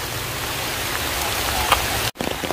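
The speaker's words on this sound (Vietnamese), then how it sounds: "Mưa khá lớn luôn quý vị." Heavy rain pours steadily in a broad, dense hiss, loud and close, near a large persimmon tree shading old graves, then cuts off abruptly and returns near the end.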